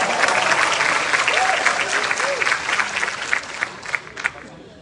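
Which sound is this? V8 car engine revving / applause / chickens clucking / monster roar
applause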